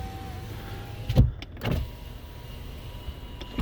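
Power windows of a 2017 Chevrolet Malibu, a short motor whir inside the cabin that stops with a couple of thumps, then quiet interior hum.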